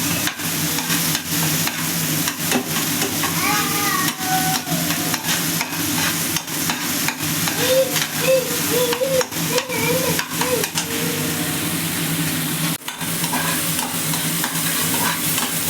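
Green chillies and asafoetida sizzle hard in a hot wok, a steady loud frying hiss with repeated scraping stir strokes of a spatula throughout, no voices.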